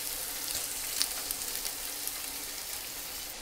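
Pieces of cased sausage fry on medium heat in a pan, giving a steady, even sizzle close by with small pops, continuous and without talk.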